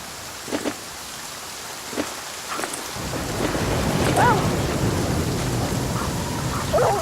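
Steady rain falling in the survival video game The Flame in the Flood, with a few soft taps before a dense, close downpour sets in and continues with faint thunder-like rumble.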